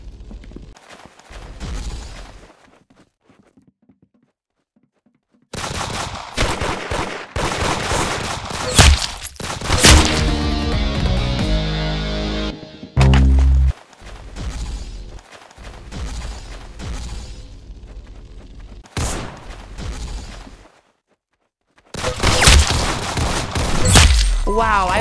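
Rapid gunfire bursts and single shots from the Roblox Arsenal shooter game, loud and clustered with pauses between volleys, and a voice talking over some of the action.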